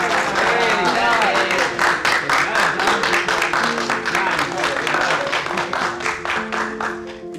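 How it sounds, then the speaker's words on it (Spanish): Coworkers at a company gathering applaud a colleague, steady clapping mixed with a voice talking over it and some tonal background sound throughout. "Aplausos, por favor."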